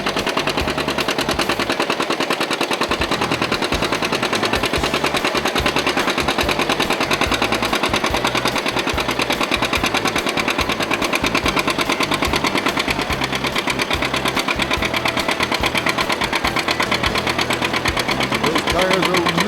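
A loud, rapid-firing antique tractor engine pounds away continuously while pulling a sled at a county fair tractor pull, a harsh rhythmic chugging roar that stays strong from start to finish, with a voice talking over it.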